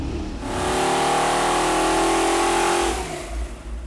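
Mondello-built 455 Oldsmobile big block V8 on an engine dyno, revving hard in one loud sustained pull for a few seconds before dropping off, close and alone.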